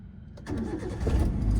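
A car engine cranks and catches, rising into a steady close idle after a brief starter whirr.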